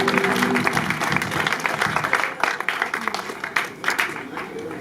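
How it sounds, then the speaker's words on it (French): Applause at a customary wedding ceremony, dense clapping from a gathered crowd with a talking voice over it, the clapping thinning out toward the end. "On peut applaudir s'il vous plaît."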